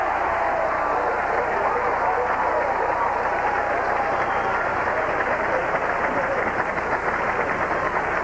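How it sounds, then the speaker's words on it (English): Crowd at a 1997 professional bowling tournament, the Johnny Petraglia Open, reacting to a shot by Walter Ray Williams Jr.: a sustained, dense roar of cheering and applause from a distant arena crowd that stays steady and loud. "Crowd reacting to Walter Ray's shot."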